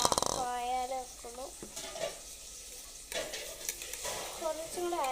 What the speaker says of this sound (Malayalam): അപ്പം ഞാൻ ഇത് ഇളക്കി നോക്കാം.